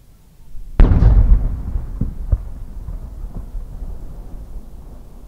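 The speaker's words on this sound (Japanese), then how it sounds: "花火の芯が二重に入った日本の伝統的花火をご覧ください。" A traditional Japanese chrysanthemum firework shell with a double core bursts in one sharp, loud boom, followed by a long rumbling echo and a few scattered crackles at a large fireworks festival.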